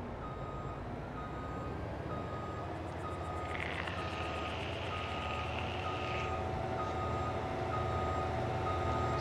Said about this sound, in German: ich muss das mal verkürzen, da das dauert mir zu lange, bis der rückwärts fährt